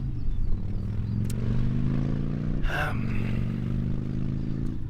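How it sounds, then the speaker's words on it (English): A motorcycle passes nearby with its engine revving, a steady low mechanical drone with shifting harmonics and a brief louder burst midway, heard outdoors with no talking. "There's a motorcycle just passed up there and engine revving."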